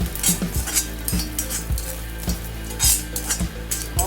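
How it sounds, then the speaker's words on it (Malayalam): Spices dry roasting in a pan without oil, with a spoon scraping and stirring in steady repeated strokes over a faint sizzle, close and clear with no talk. "വെറുതെ ഒന്ന് വറുത്തെടുക്കുകയും ചെയ്യാം"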